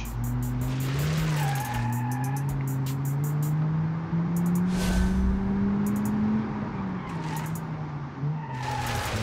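Another handbrake slide in the BeamNG.Drive driving game brings a sustained, loud tyre squeal over a steady, wavering engine drone.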